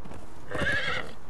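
A horse in the Conan Exiles video game gives a short, loud whinny over soft hoof clopping, close and alone without talk.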